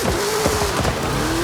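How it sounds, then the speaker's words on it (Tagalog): A UV Express van drifting in the racing game Forza Horizon 5, its tires squealing in a long, steady high whine over a continuous engine rumble, loud and close throughout. "Boss, kung paano ba mag-drift sa sasakyan"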